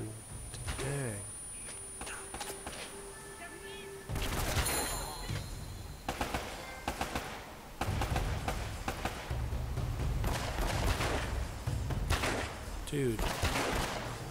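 Scattered gunfire in Uncharted: Drake's Fortune on PS4: intermittent bursts of shots, some near and some distant, mixed with game effects under a quiet room, with a brief spoken exclamation.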